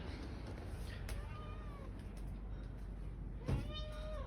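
A cat meows on a sunny patio in Istanbul, a couple of soft mewing calls scattered over a steady outdoor background hum, with a sharper sound near the end.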